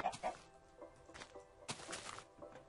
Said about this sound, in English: And I hear chicken!